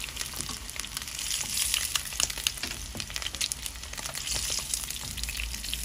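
Eggs fry with onion in hot oil, giving a close, continuous crackling sizzle with small bursts of spatter, steady for several seconds with no voices.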